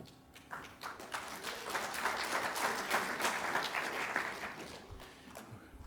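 Steady applause from an audience, many hands clapping at once, sustained for several seconds at a moderate distance.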